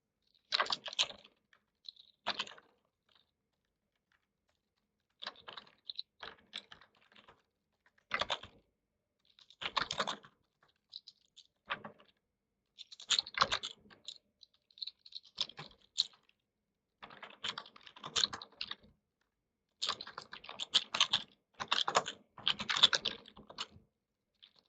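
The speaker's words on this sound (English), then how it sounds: "It takes a long time to type this." Bursts of clattering keystrokes on a computer keyboard, close and dry, arriving in irregular clusters separated by short silent pauses, with no talking over them.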